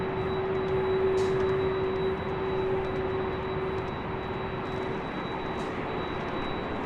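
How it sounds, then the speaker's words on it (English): A WestJet Boeing 737 MAX 8 taking off at LAX, a steady broad engine roar with a sustained whining tone, heard from a distance at a constant level, no talking. "This flight 1511 will be taking off to Calgary on a MAX 8."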